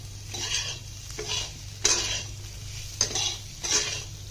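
Black pepper, cumin powder and dried fenugreek leaves stirred into food in a pan, with rhythmic spoon scrapes and clinks against the pan over a soft, steady sizzle, close by and with no talking.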